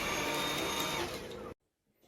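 A household vacuum cleaner, run while a dog is trained to stay calm around it, whirs loudly and steadily, then cuts off abruptly into near silence.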